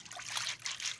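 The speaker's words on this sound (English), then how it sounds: "I'm just taking my time to wash it over and over again so that it becomes very clear" Water trickles and splashes steadily over a food ingredient being rinsed again and again, a close, moderately loud wet patter with small surges and dips and no talking.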